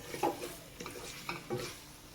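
Prawns frying in a pan and being stirred, with soft scraping spoon strokes at intervals over a faint sizzle.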